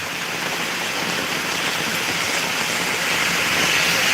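A heavy downpour falls on Dhotian village, its thick, rushing roar of water sounding close and constant, growing slightly louder toward the end, with no voices.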